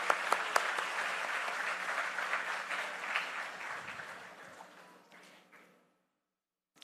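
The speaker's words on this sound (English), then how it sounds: "let's give a huge round of applause for all the young people here." A crowd applauds at a youth summit on climate action held at a university, steady dense clapping in a large hall that gradually fades out to silence.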